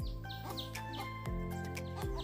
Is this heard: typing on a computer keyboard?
no